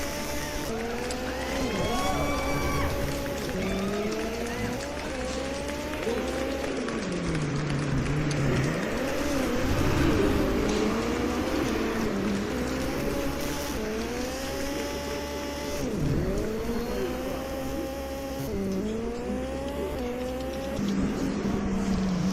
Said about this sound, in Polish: żółto-czarnym Renault Clio Super 1600 doślizguje się Noriel